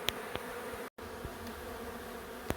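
A dense swarm of honeybees buzzes steadily and close by during the relocation of a hive from a kitchen, with a brief dropout partway through.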